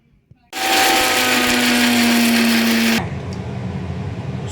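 A grinder whirs loudly for about two and a half seconds, blending soaked white mustard seeds and ginger into paste, then drops to a lower steady hum as it winds down; a brief click precedes the motor starting.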